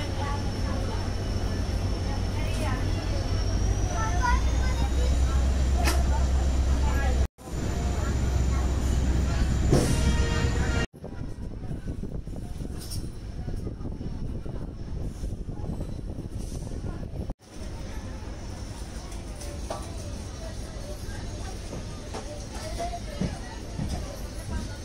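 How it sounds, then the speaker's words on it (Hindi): A passenger train pulls out of Gandhidham station in Gujarat on the way to Bhuj, with a steady, loud rumble and hum of the rolling carriages running throughout, briefly interrupted by cuts. "अभी हमारी ट्रेन गांधीधाम से चल पड़ी है"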